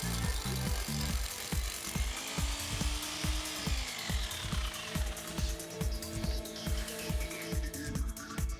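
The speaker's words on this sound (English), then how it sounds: "Drill vertically and take care of the depth." A power drill boring anchor bolt holes into a concrete floor while a two-post car lift is being installed, pounding in a fast, steady, regular rhythm that is loud and close throughout.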